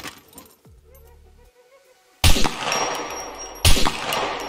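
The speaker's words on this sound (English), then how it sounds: "I'm going to shoot one." Two loud, sharp gunshots in the survival video game Scum ring out about a second and a half apart, each with a reverberant tail, following a quieter stretch of low mechanical hum and a faint metallic clink.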